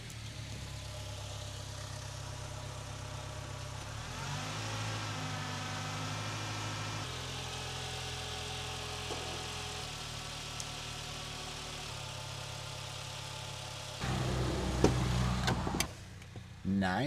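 A truck engine idles with a low, steady rumble, shifting slightly in tone a few times, then a louder burst of handling noise and knocks near the end, fairly close and without talk.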